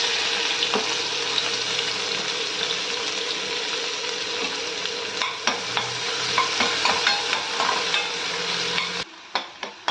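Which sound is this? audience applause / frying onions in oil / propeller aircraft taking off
frying onions in oil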